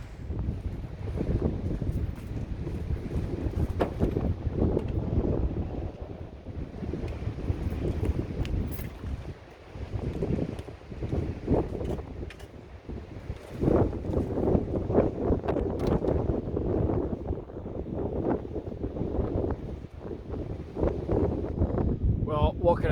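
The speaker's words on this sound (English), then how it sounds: "it is blowing a hoolie" Strong wind buffets the microphone at a wild camp in the Cairngorms, with loud rumbling gusts that rise and fall throughout and a voice speaking underneath.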